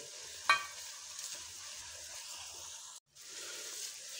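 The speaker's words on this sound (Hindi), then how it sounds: "लहसुन अदरक के पेस्ट को थोड़ा सा हल्का सा भूनेंगे साथ में प्याज के" Onions frying with garlic-ginger paste in a pan being stirred, a steady close sizzle with soft scraping; a sharp clank near the start and a brief dropout toward the end.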